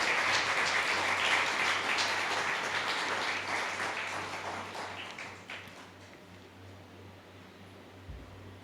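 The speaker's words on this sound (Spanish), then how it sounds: "Dale un aplauso al Señor" A church congregation applauds during a sermon, steady broadband clapping that fades gradually over several seconds into quiet room noise.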